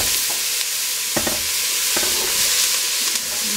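Leeks and celery root fry in a pot over medium-high heat, a steady close sizzle broken by a few sharp stirring scrapes and clicks.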